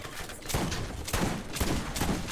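Rapid bursts of gunfire from a weak weapon in the video game Borderlands, several close, punchy shots in quick succession with a short pause between volleys.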